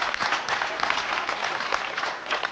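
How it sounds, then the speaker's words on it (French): An audience at a magic show applauds a volunteer, a dense burst of clapping from a crowd heard close and steady for a couple of seconds. "Aurélie, on va l'applaudir très fort"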